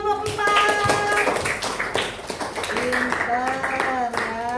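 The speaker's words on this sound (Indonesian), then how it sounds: "Tepuk tangan untuk kelompok 4." Schoolchildren in a classroom clap for a student group, a brief burst of close hand claps that fades under overlapping voices and a sung or chanted tone.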